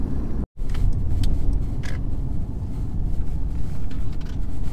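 A 2015 Mercedes C220 driving on the road, its steady broadband engine and road rumble filling the cabin continuously, briefly cutting out once near the start.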